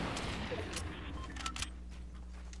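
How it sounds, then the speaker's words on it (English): Bursts of gunfire crackle in a Fortnite Battle Royale match, with sharp shots popping over a steady rumble of game noise while players talk over the action. "Watch out, they're shooting at us."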